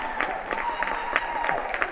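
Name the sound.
home crowd cheering and applauding after volleyball match win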